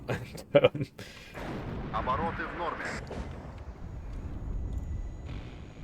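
Mortar and artillery fire in the real-time strategy game WARNO, with a few sharp, close booms at the start followed by softer, rumbling distant fire, while players talk over it.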